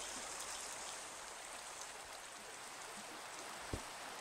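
Rain falling in the video game Minecraft, a soft, even hiss of steady rainfall that stays faint and continuous throughout, with one brief low thump near the end.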